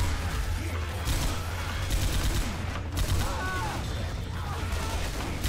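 Gunfire with fire rounds in Left 4 Dead 2, a dense, continuous barrage of shots and crackling under steady game noise, with voices talking over it.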